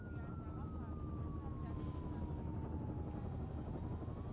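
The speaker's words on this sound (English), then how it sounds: "There's the helicopter." Helicopter in the video game Firewatch, a loud steady rotor and engine drone filling the scene with a slowly falling tonal whine over a dense, constant roar, heard close and unbroken.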